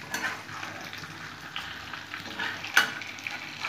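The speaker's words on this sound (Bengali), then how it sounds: "একটু নাড়াচাড়া করে" Mango pickle being stirred in a frying pan, a soft continuous scraping and sizzling with one brief sharper clink near the end, close and fairly quiet.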